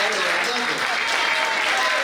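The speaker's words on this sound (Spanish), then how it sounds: "Fuertes aplausos para Carmen" Dense, steady applause from a neighborhood workshop gathering in Barrio Mugica, Buenos Aires, filling the full two seconds at an even, loud level with no break.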